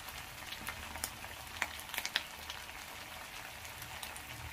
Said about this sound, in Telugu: సో మీడియం ఫ్లేమ్లోనే పెట్టుకొని దీన్ని నిదానంగా బాగా ఫ్రై అయ్యేలాగా చూసుకున్నాం